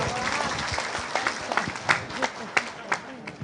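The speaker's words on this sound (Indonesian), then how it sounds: "Tepuk tangan untuk NU." Audience applause for NU at an Islamic prayer gathering and sermon, steady clapping from a crowd, with a few louder claps standing out and some voices mixed in.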